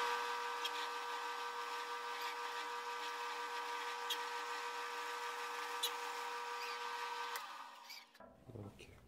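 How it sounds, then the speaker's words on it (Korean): An electric drill bores a hole through a homemade rubber-hose tubing cutter, its motor whining steadily and loudly for about eight seconds before winding down and stopping. "일치를 딱 시킨 다음에 구멍을 뚫어줄게요."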